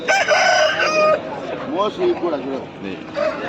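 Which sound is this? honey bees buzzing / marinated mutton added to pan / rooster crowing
rooster crowing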